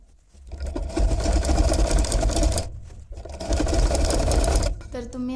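A sewing machine stitches an umbrella frock in loud, rapid whirring bursts, running steadily with a short pause midway and stopping near the end, close up.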